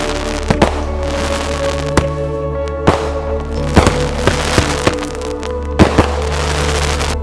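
Fireworks burst in a loud, irregular series of sharp bangs and crackles, about a dozen reports over a steady rumbling background, some close together and others spaced a second or so apart.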